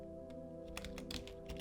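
Typing on a computer keyboard while entering a long folder path on a PC: a quiet, uneven patter of key clicks over a steady background hum, without any voice.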